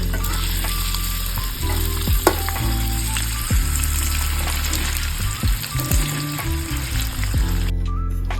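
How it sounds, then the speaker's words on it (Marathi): Paneer frying in hot oil for a hotel-style palak paneer, a steady, loud sizzle running the whole way with occasional stirring scrapes and clinks, no voices over it. "तर आता आपण पनीर तळून घेऊया तेलामध्ये त्याला छान ब्राऊन कलर येईल अशा ह्याच्यात तळून घ्यायचं"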